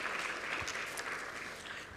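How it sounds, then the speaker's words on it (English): Applause from an international forum audience, a dense, steady wash of clapping that holds at even strength throughout, with no voices over it. "Let's give them a big applause."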